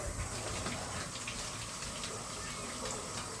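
Tap water running steadily over grapefruits being washed at a kitchen sink, a faint continuous splashing hiss with no breaks.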